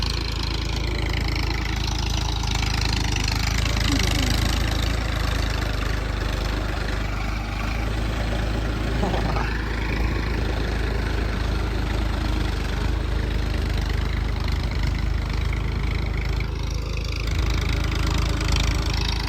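A tractor engine runs steadily in a flooded paddy field, a continuous low idling drone that stays loud and even throughout, with no talk over it.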